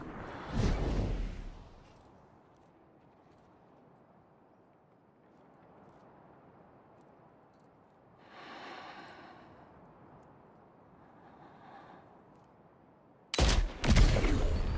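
Gunfire in the video game Death Stranding 2: a sharp burst near the start, muffled rumbling and swishing through the middle, then a loud pair of close shots at the end.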